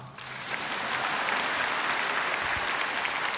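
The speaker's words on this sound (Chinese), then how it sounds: "好了，鼓掌。" Audience applause at a Singapore talk session, a dense sustained clapping that swells in quickly and holds steady and loud for a few seconds.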